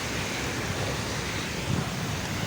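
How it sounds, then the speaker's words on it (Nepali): Heavy rain falls in dense, constant broadband noise with no pauses, loud and close, while the weather turns bad in Dubai. "पानी भयानक परिरहेछ ल साथीभाइहरू"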